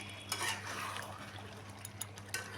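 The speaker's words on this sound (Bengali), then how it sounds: "মাটন কিন্তু কষানো হচ্ছে" Mutton is stir-fried in a kadai, a quiet steady sizzle broken by occasional scraping strokes of a spatula against the pan.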